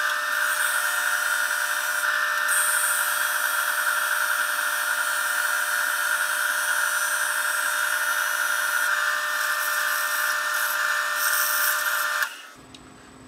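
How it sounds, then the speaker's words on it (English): A belt sander's loud, steady high-pitched motor whine with grinding runs continuously while sanding edges of a Nerf blaster build, then winds down abruptly near the end. "I am lucky enough that I own a belt sander. So that's how I'll be tackling sanding"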